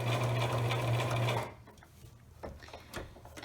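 A sewing machine runs steadily for about a second and a half while sewing a felted wool eyeglasses pouch, then stops abruptly, followed by faint handling clicks and rustles.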